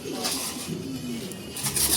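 Racing pigeons back from a 321 km race to Vigan, Ilocos Sur, coo in soft, throaty murmurs close by over a steady background hum.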